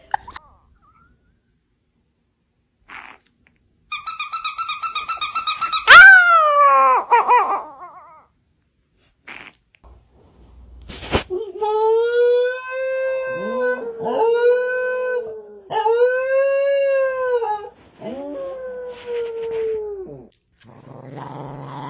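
A small chihuahua howls in a string of drawn-out, wavering cries, some rising and falling in pitch, with short squeaky whimpers and pauses between calls, loud and close.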